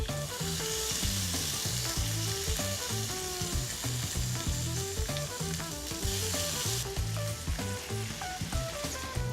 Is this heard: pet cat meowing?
no